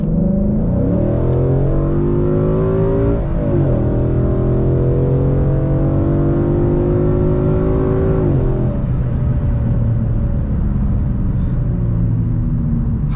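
A Ford Mustang GT with a 5.0 V8 in sport/track mode accelerates hard, its loud close engine roar rising through revs with two brief gear-change dips and no talk.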